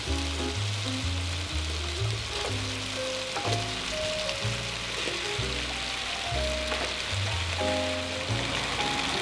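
Radish sizzles and crackles in a hot pan while Korean black bean noodles (jjajangmyeon) are cooked, giving a steady, loud frying hiss under melodic background music.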